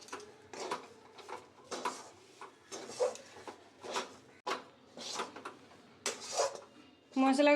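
Gram flour and spices being stirred together for a pea kochuri filling, with a run of scraping and knocking strokes in an uneven rhythm, fairly close and moderately loud, ending in a sharper clatter.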